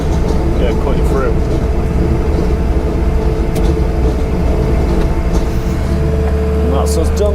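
A JCB Pothole Pro machine cuts through a road surface, giving a loud, steady grinding and engine roar that runs unbroken throughout, with voices faintly mixed in.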